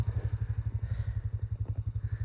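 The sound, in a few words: tractor engine running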